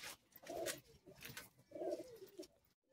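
Madrasi pigeons coo close by in two soft, rolling bursts with faint chirps and rustling around them, over a short stretch with no voices.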